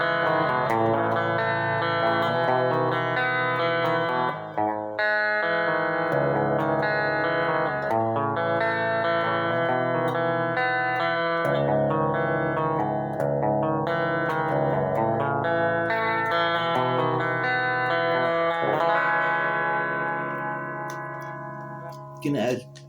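Electric guitar chords ring out through a Kustom combo amp with lush reverb, notes sustaining and blending into each other before fading out at the end.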